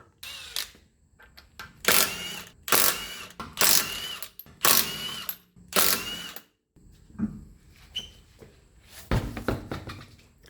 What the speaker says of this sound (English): next thing we want to do is take the wheels off